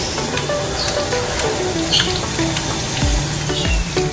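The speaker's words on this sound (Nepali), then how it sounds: "यो हात धुइदिइसक्यो। अब यो हात सफा पनि गरिदिँदैछ। यो हावा फालिरहेको छ।" An automatic hand-washing and drying unit in an airport toilet gives off a continuous hissing spray of water and blown air, fairly close and loud, with faint tonal whines over the rushing noise and no talking.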